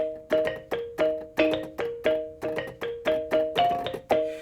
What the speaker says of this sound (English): It's actually a marimba-like instrument,